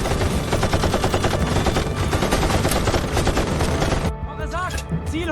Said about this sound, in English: The heavy German fire began, ripping through Baker's platoon.